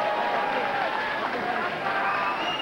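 A packed Korakuen Hall boxing crowd roaring steadily for the new champion Sakamoto after a lightweight title fight, a dense continuous cheer with a commentator talking over it.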